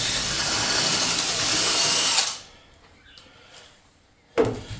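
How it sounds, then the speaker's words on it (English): A power drill whines loudly and continuously for about two seconds while drilling out a part on a squeaky chair, then stops, followed by a short burst again near the end. "so we'll drill this out"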